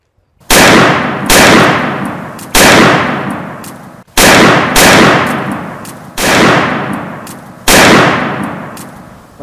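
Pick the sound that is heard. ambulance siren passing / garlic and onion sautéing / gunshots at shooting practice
gunshots at shooting practice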